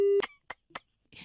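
A steady telephone busy tone hums briefly after a hang-up, then cuts off as short bursts of speech follow, ending in a burst of noisy sound.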